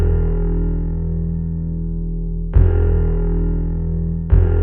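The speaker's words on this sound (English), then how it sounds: "I used SynthGPT with the prompt acoustic bass on fire" Heavily distorted synthesized acoustic bass generated by SynthGPT, sustained buzzing low notes with gritty overtones, loud and close, changing note twice with sharp new attacks, no voices.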